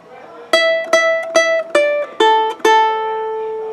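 Single notes are plucked on the bottom string of a guitar for a riff, six clean, bright notes in a steady rhythm with the last left ringing.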